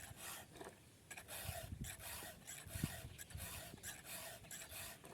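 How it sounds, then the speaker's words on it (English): A file is drawn across the cutters of a chainsaw chain in quick repeated rasping strokes, about four to each cutter. The scraping is soft and close, with no voices. "I'm trying to hit every cutter with 4 strokes of sharpening"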